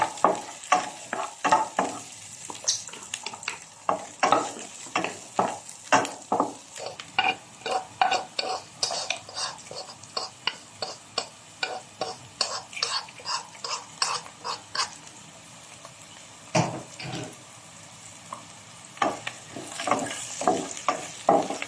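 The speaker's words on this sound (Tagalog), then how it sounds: "Lagyan ko na po yan ng oil. Lagyan natin ng sibuyas." Onions frying in oil in a pan while being stirred for kabsa, with a steady sizzle broken by a rapid series of close scraping stirs from start to finish.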